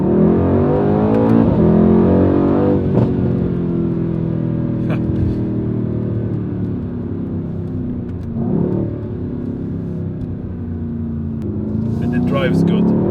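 A 2019/2020 Mercedes-AMG C63S facelift roars and revs loudly, its engine note swelling and falling across several throttle blips, with a person talking over parts of it.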